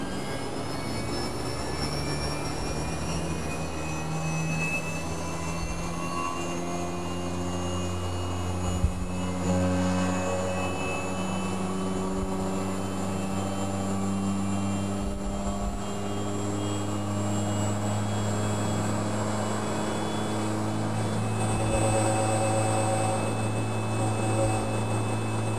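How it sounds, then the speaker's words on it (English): A GXS dry vacuum pump runs at full speed of 110 Hz during its warm-up phase, giving a steady, loud mechanical hum with layered tonal whines and no pauses throughout. "During the warming up phase, the dry pump is rotating at full speed, 110 Hz"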